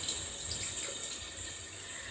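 Water pours steadily from a huge rain-style shower head, a continuous bright hiss of spray close by with no voices.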